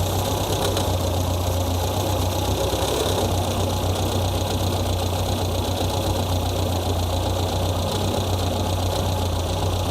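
A car engine idles steadily with a carburetor being adjusted to lower the RPM, a close, continuous low rumble with a faint ticking texture and no pauses throughout.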